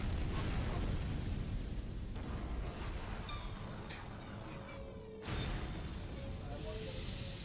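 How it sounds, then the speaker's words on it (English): Fireworks bursting in a mech video game during an in-game holiday celebration, a steady run of loud booms and crackling pops with whooshing streaks, sustained throughout with a brief lull before resuming. "we already have fireworks"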